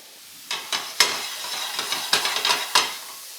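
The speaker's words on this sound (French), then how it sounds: "Dans mon huile bien chaude, je vais faire colorer l'oignon." Chopped onion and risotto rice are stirred in hot oil in a pan, a run of sharp scraping strokes at an irregular rhythm over a soft, steady sizzle, close and moderately loud.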